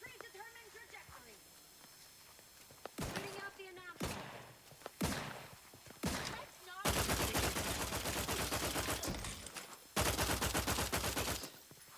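Gunfire in The Outer Worlds 2, starting with scattered single loud shots and moving into sustained bursts of automatic fire, with a radio-style voice talking early on.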